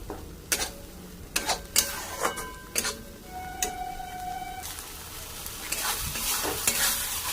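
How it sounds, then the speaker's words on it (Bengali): Sour curd is stirred into a sizzling fish curry. Sharp spoon scrapes and knocks against the pan repeat over a steady frying sizzle, close by. "এবার দইটা দিয়ে দিলাম, দইটা দিয়েও নাড়াচাড়ি করে নেব"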